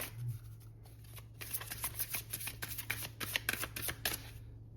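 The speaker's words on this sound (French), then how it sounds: "je vais prendre maintenant une carte conseil avec les anges de l'amour de Doreen Virtue" Oracle cards from a Doreen Virtue angels deck are shuffled and handled, a soft, close papery riffling and flicking that runs steadily for several seconds under a low steady hum, with no talking.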